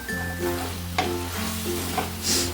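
Kongunadu-style pepper chicken fry stirred in a hot pan, giving a steady loud sizzle with occasional scraping strokes of the spoon.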